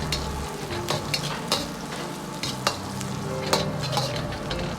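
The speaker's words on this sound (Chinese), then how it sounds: "再放入适量的干辣椒段，煸炒出香味。" Dried chili pieces stir-fried with shredded pork, scallion and garlic in a hot wok, a steady close sizzle punctuated by sharp spatula scrapes and clinks.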